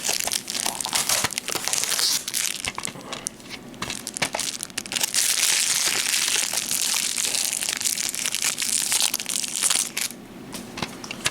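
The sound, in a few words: sticker being peeled off an anime DVD case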